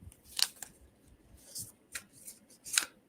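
A Sacred Traveler oracle card deck is shuffled by hand, giving crisp papery riffles and flicks in several short bursts with brief pauses between them, close and fairly quiet in a still room.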